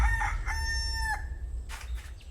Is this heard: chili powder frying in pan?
no